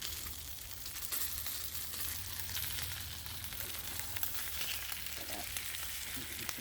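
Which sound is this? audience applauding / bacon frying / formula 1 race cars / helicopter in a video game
bacon frying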